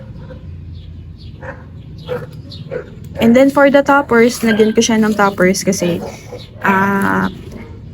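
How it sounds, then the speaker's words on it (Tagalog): A dog barks repeatedly in the background during a plant-care chat in a lowland home garden. The sharp, fairly loud yaps cluster in the middle and near the end, overlapping a person talking. "ang ingay ng aso"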